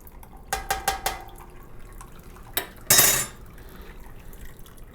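Water drips and splashes as a wet grain bag is lifted out of brewing water, a few quick drops followed by a louder splashing pour, then quiet.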